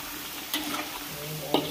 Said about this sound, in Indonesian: kita boleh bolak-balik aduk aja ya